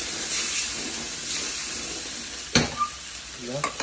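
Spaghetti sauce stirred in a frying pan gives a steady sizzle and frying hiss throughout, with a sharper scrape of the spoon and a few clinks near the end.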